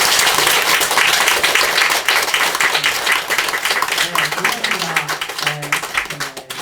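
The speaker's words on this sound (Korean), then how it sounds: "박수 한번 보내주세요" Audience applause at a Buddhist Buddha's Birthday dharma assembly, a dense wash of clapping that stays loud throughout and thins slightly toward the end, with a voice faintly speaking over it.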